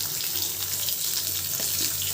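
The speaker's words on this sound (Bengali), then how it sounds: "ছোটো মাছ তো ভালো করে ভেজে নিতে হবে।" Small chapila fish fry in a pan with a steady, continuous oily sizzle and crackle up close, with no talk.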